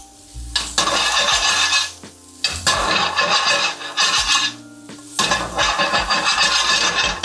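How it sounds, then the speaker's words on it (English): Fresh vegetables with julienned bell peppers stir-fry in a hot pan, loud bursts of sizzling and scraping that come in three long waves with brief quieter gaps between them, and no talking. "We got some great fresh vegetables that we're stir frying."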